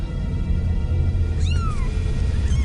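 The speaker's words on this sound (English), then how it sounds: "They're my kitties." Cats meowing over a steady low rumble, one clear drawn-out meow rising then falling in the middle, with a fainter second cry near the end.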